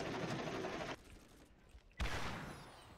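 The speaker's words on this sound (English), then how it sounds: "Oh my god, my rocket keeps missing." Rocket launcher fire in Borderlands comes as a dense rattling burst, a short lull, then a loud sudden blast that decays slowly, with no voices.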